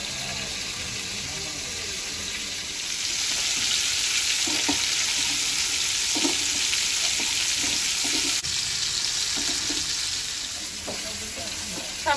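Chopped kohlrabi and potato fry in a pan in a steady, close sizzle that swells slightly in the middle, with scattered soft thumps of stirring and a faint high whine running through.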